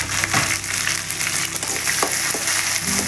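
Onions, green chilies, ginger and garlic fry in hot oil, a loud, steady sizzle punctuated by occasional scraping stirs of a spoon in the pan.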